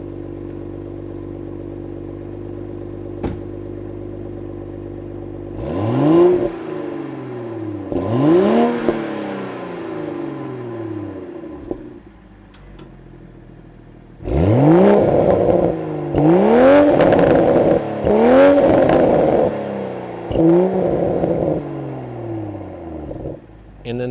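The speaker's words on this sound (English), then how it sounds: "You've got dual exhausts on the back here, and they sound pretty sweet." The dual exhausts of a 2025 BMW Z4 M40i roadster with a manual gearbox in Sport Plus mode rev loudly and close. There are two blips from a steady idle, then a burst of several sharp revs in quick succession, each falling back with a rumble.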